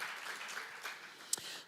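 Faint, distant clapping from a small audience at a talk, a brief scattered patter that continues for under two seconds with one sharper clap near the end.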